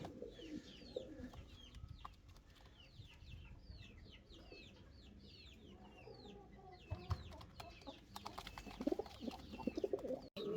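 Pigeons, a pair of fancy breeds including a Jhorna satin female, cooing in a loft, with repeated soft coos and some fluttering and clucking over steady background noise, growing busier and louder toward the end.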